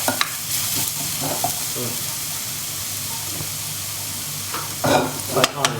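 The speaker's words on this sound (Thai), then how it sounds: "ไฟไม่ต้องแรงมากนะขั้นตอนนี้ เราจะเจียวกระเทียม ให้หอมนะครับ" Garlic sizzles and crackles steadily in a pan over moderate heat for garlic-pepper shrimp, with intermittent clinks and scrapes of stirring close by and a voice speaking briefly near the end.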